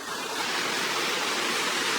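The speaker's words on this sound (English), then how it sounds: "water coming to the village" Water flowing steadily into a traditional mud-built village in Oman, a continuous close rushing wash with no voices.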